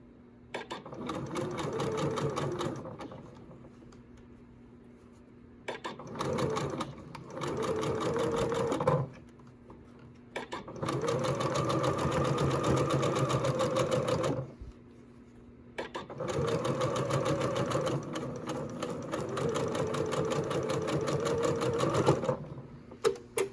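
A sewing machine with a gathering foot stitches in three long loud bursts of rapid, steady mechanical whirring, separated by short quiet pauses and a few clicks, close and without talk.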